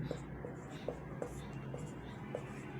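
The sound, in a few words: writing out the solution during a maths lesson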